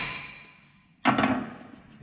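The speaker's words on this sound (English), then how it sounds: "You just need a little love tap with the hammer" Single sharp hammer strike on a seized, rusty brake disc of a 2018 Ford Mondeo, a sudden metallic knock with a short ringing decay following a quiet lull.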